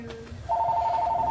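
A telephone rings with a steady, bright electronic trill that starts abruptly partway through and continues, fairly loud and close, over a faint background of room noise and a brief murmur before it.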